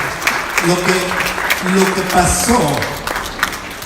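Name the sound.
congregation applause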